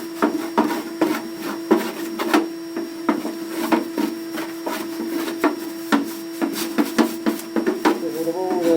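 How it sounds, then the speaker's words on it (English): Ash is brushed out inside a Baxi fireplace with a vacuum hose nearby, giving a steady low hum beneath a string of sharp scraping and tapping strokes in an irregular rhythm, close to the microphone. "I'm just going to brush around in here"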